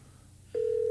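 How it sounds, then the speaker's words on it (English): A steady electronic intercom line tone starts abruptly about halfway through and holds loud and unbroken to the end, following a quiet stretch with faint room hum. "Intercom, it sounds like."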